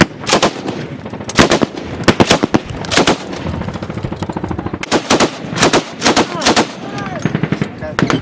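Hand-held light machine guns fire in rapid bursts near Kandahar, loud sharp cracking volleys close by, separated by brief pauses and echoing across open ground.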